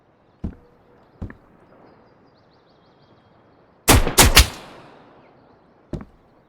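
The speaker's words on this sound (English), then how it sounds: "He's shooting from over there." Enemy gunfire in the hardcore survival shooter Road to Vostok: scattered single shots at a distance, then a sharp cluster of three loud close cracks with a short echo, and one more shot at the end.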